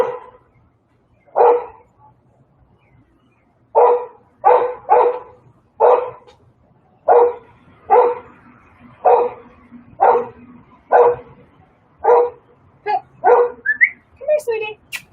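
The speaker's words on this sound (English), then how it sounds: "Sorry about the barking." A dog barks repeatedly nearby, about a dozen sharp barks in an uneven rhythm, some clustered in quick pairs, ending with a few higher yips.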